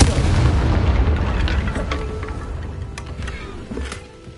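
Confringo explosion spell cast in Hogwarts Legacy, a heavy rumbling blast with deep booms that fades over a few seconds, followed by smaller crackling bursts.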